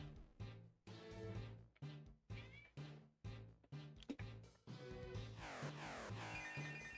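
A cat meowing in a Pokémon SoulSilver game, several short repeated cries over looping game music, moderately loud and alone without talk.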